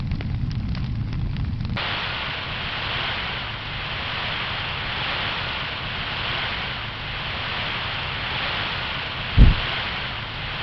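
Fire roaring in the Truckology video game, a steady broad crackling rush that fills the scene, with one sharp deep boom of an explosion near the end.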